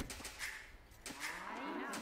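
A cow in a video game moos twice, low drawn-out calls at moderate volume, the second longer and rising, set against faint game background sounds with no speech.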